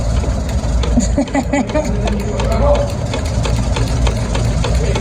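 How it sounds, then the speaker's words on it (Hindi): A hand-turned sewing machine stitches clothes at home, a loud steady whirring clatter with a fast mechanical rhythm running throughout, while people talk over it. "मशीन में भर रहे हैं धागा और अलीज़ा इसको घुमाना।"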